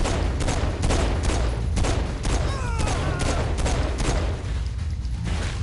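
Dense, loud gunfire in the video game Saints Row 4, continuous rapid bursts and overlapping shots with booming impacts filling the whole stretch, with a voice briefly heard under the shooting.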